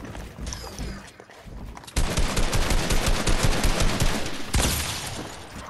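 Rapid automatic gunfire in a video game, a dense sustained burst of shots that starts sharply after a quieter stretch and continues loud and close to the end.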